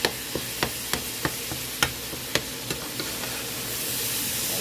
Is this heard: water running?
no